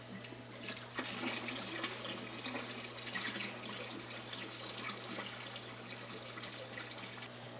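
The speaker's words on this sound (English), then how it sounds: "let's stir this batch of salt up one more time, and we'll just dump it right in the top" A batch of mixed salt water is dumped into the top of a saltwater aquarium tank, a continuous rushing, splashing pour that stays fairly steady and close for several seconds.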